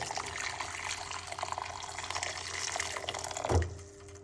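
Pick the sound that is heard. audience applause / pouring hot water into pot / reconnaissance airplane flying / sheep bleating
pouring hot water into pot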